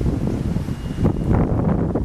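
Strong wind buffeting a camera microphone outdoors on an uneven city sidewalk, a loud continuous low rumble that swells and gusts throughout, with no voices.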